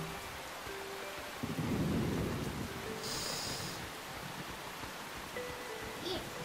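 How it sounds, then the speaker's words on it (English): Thunderstorm in Shining Resonance Refrain: steady heavy rain hiss throughout with a low rumbling thunder swell early on, plus faint tonal game sounds over the wash. "Yep, thunderstorms it is."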